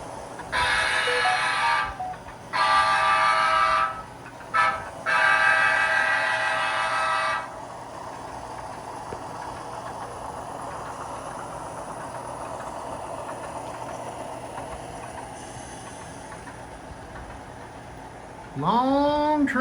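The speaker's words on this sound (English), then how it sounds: "Long train." A long train of 28 cars pulled by seven locomotives rumbles steadily, with several loud horn blasts early on, a sustained rolling drone, and another horn sounding at the very end.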